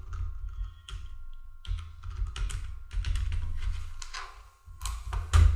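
Rapid keystrokes on a computer keyboard while a payment entry is entered in Tally Prime accounting software, coming in irregular bursts of close clicks with short pauses between them.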